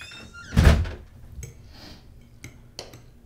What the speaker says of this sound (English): You can shut the door if you want.